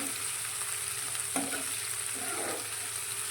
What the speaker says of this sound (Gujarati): હવે મેથીને આપણે સાતળવાની છે